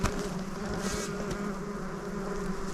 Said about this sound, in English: Don't think it's wasps, it's actually bees.